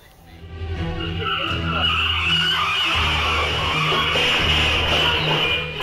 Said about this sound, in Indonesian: Minibus yang sedang melaju kencang tiba-tiba menabrak tiang listrik di Bojonegoro, Jawa Timur.